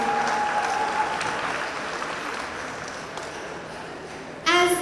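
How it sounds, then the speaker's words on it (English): An audience applauds loudly after a campus dance performance at the Nritta 2023 event in Yeshwanthpur, dense steady clapping filling the space before a brief ringing tone cuts in at the end. "Can we have another huge round of applause for these gorgeous ladies?"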